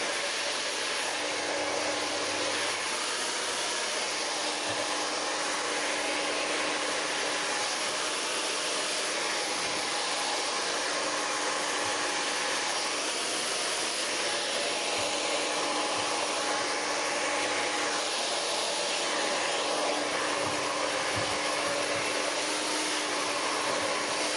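A hair dryer roars steadily and close for the whole stretch during blow-wave hairstyling, a constant airy whoosh with no pauses.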